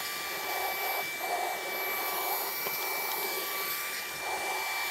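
Ryobi vacuum sucking up thick, clumpy dust, a loud continuous roaring whoosh with a steady high whine running throughout, close and unbroken.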